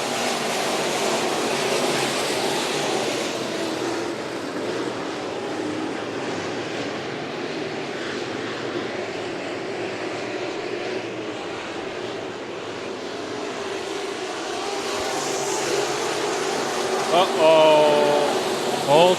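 Sport Mod race cars restarting at Bakersfield Speedway, a dense continuous engine roar from a pack of cars heard at a distance, steady in level throughout and swelling slightly near the end.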